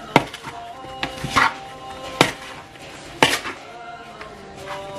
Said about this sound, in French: Après avoir bien mélangé mes pommes de terre avec les épices, le sel, je vais les réserver de côté.